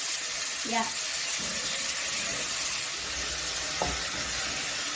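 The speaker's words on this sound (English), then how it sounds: "I'll let the meat cook before I add my potatoes and my arrowroot" Meat simmering in a pot for Kenyan arrowroot (nduma) stew gives a steady broadband sizzle and bubble, with a couple of faint clinks partway through and no talking.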